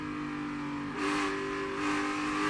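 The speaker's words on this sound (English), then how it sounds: "You hear him hammering that throttle, trying to get the car to turn." At Phoenix Raceway, a NASCAR Cup Series race car's engine drones steadily, then surges twice as the driver hammers the throttle mid-corner, loud and continuous.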